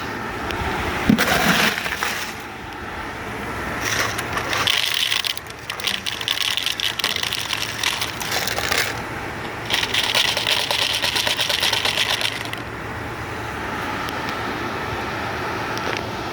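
Ice scooped with a Dino Scooper: repeated loud crunching, rattling and clattering of ice cubes in irregular bursts, with scraping and shifting between scoops and a faint steady hum underneath.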